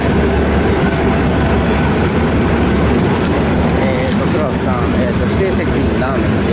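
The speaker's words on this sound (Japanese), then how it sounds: "今日私が乗る電車ですね" A Bangkok commuter train rumbles loudly beside the platform, with steady rail noise and faint wheel squeals as people talk nearby.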